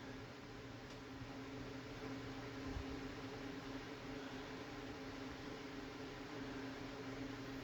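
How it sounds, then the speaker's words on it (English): An ornate old Jacksonville Vicksburg ceiling fan runs on high speed with a loose switch housing, producing a steady, even hum and airy whoosh that holds constant throughout, with no talking. "there's the fan. It's on high."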